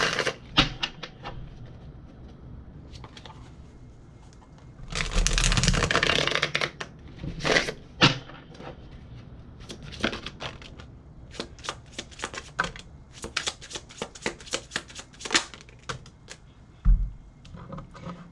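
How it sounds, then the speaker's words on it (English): A deck of cards being shuffled repeatedly, crisp riffling bursts with a longer dense riffle in the middle, close and clear, with no talking. "I don't remember shuffling this deck."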